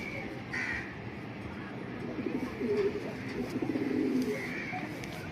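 A chocolate racer pigeon coos in low rolling bursts, with other birds calling in the background, steady and moderately close.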